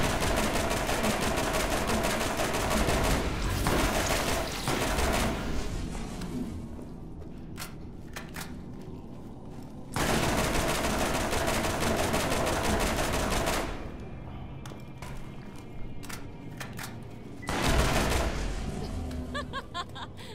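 Explosions and gunfire in the Borderlands Game of the Year Edition shooter crackle in long dense bursts, with sharp rapid shots and booms broken by two short quieter gaps before the firing resumes.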